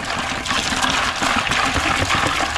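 Salt water sloshing and pouring from a jug of offshore seawater into a slush for rinsing hogfish, a steady close splashing trickle that runs continuously without a break.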